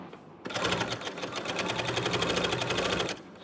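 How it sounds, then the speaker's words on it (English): A Bernina L890 sewing machine stitching a woven binding strip, a close, steady rapid rattle of needle strokes running about three seconds before stopping. "Then I shall put it under the foot and start stitching."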